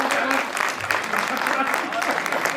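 Audience at a kavi sammelan and mushaira poetry recital in Jodhpur breaks into steady applause, a dense crackle of many hands throughout, with some voices mixed in.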